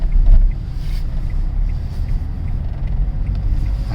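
Small Renault Twingo Mk1 hatchback on the move, a steady low engine and road rumble with wind buffeting the microphone, continuous and fairly loud with no talking.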